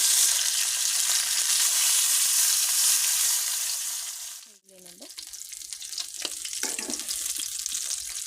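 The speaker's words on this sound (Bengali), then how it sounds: "এই যে মাছ ভেজে তুলে নিলাম" Fish fries in hot oil in a wok, a loud, dense sizzle that briefly cuts out, then resumes a little softer with light clinks from the pan.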